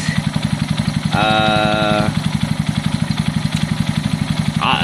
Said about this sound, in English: What we're wondering is if this engine is running good enough to bother at this stage.